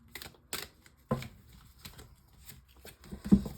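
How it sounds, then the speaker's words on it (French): Oracle cards being handled and drawn from a deck: a few soft flicks, slaps and rustles spaced irregularly, close and quiet, with no talking. "je prends donc une carte de l'oracle au quotidien"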